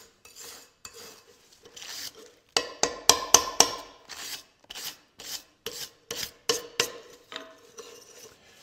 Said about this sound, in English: Doesn't hurt to at least brush it a little bit.